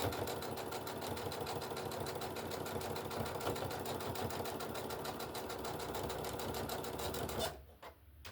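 A sewing machine stitches fabric in a steady fast rhythmic whir for about seven seconds, then stops abruptly, with no talking over it.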